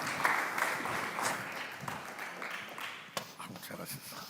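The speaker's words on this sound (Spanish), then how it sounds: "Un aplauso y adelante." Applause from an audience at a Spanish-language talk event, a broad steady wash of clapping that holds for several seconds with a slight dip toward the end and a murmur of voices mixed in.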